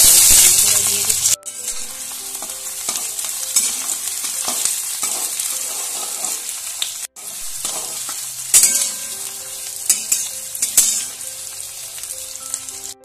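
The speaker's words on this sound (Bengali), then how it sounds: "এবার আমি তেজপাতা আর শুকনো লঙ্কাগুলো ফোড়ন হিসেবে দিই" Bay leaves and dried chillies sizzle hard in hot oil as a tempering, a bright, loud, continuous frying hiss with stirring clatter and a couple of short breaks in the sound.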